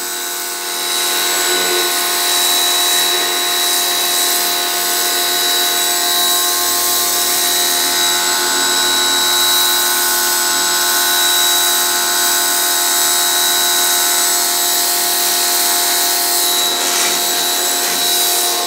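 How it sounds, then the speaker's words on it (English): A power tool with a high whine slices through a car bumper in one long continuous cut, loud and close, with a steady tone that runs unbroken and no voices over it. "let's just take one long slice at this bumper."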